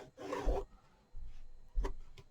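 Three short scratchy strokes of a marker or pencil drawn along quilt fabric, each a brief close rasp with quiet pauses between them.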